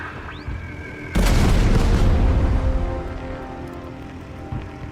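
Bombs burst in a heavy, loud boom during a bombing mission in the Total Tank Generals video game, followed by a long, rumbling decay that fades over several seconds.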